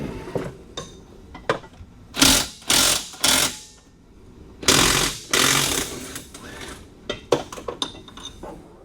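Bursts from a powered socket tool remove nuts on a Hayabusa X3 off-road vehicle while a brake lock is fitted. The bursts are loud, close and rattling, with quieter clicks and clinks of tools between them.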